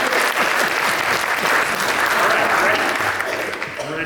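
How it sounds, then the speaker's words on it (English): A live audience gives a round of applause at a Hands for Peacemaking Foundation presentation, with dense, steady clapping that fills the space for about four seconds before tapering slightly at the end. "Why don't we give Brian a round of applause for just to get him going."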